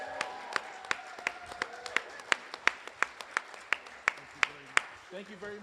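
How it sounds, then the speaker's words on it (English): Applause for two senators at a state legislative seminar in Arizona: sparse, distinct claps spread through a crowd, fairly quiet and even, with voices talking faintly underneath. "Can we give a huge round of applause and a thank you to the two senators for coming?"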